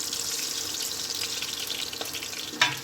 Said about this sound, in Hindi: अभी जो बचा हुआ है मछली इसको भी फ्राई करने के लिए डाल दे रहे हैं।